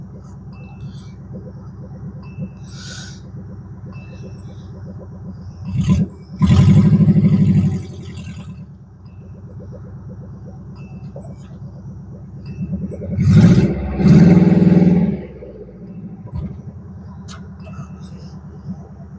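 A 1988 Subaru Loyale moving in 4-low under its own power: two swells of engine revving, each a few seconds long, rise above a steady low idle rumble, close and fairly loud.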